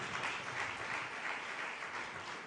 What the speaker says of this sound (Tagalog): Ibigay nga ang pinakamalakas na palakpak sa Diyos